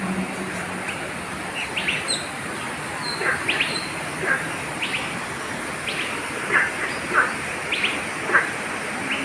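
Birds chirp in Hong Kong Park, scattered short high tweets repeating every second or so over a steady outdoor ambience, moderately close.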